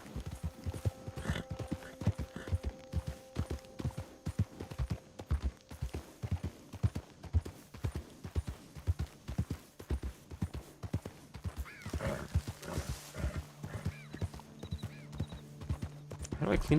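Game horse hooves clip-clop in a quick steady rhythm, close and prominent, with occasional neighs and ambient game tones, while a person talks over much of it.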